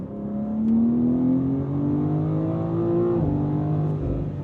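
A 2026 BMW M2 CS engine hums and slowly rises in pitch as it accelerates, with a steady exhaust drone, then eases off briefly before pulling again.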